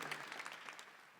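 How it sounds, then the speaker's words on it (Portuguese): A Mass congregation applauds a couple, a soft, steady patter of clapping heard from a distance that fades gradually over about a second. "Vamos aplaudir o casal."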